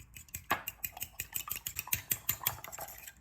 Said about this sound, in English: So just give those a whisk.